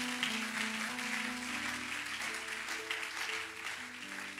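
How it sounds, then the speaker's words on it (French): A church congregation claps and cheers in praise, a dense wash of applause mixed with sustained organ or keyboard tones that carries on throughout at moderate level. "Acclame pour le Seigneur bien-aimé."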